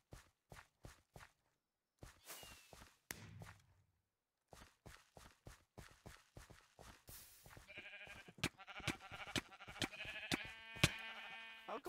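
Blocky footsteps tap steadily through a Minecraft Mineplex mini game while sheep bleat several times, with the sounds growing busier and more layered toward the end; nobody speaks.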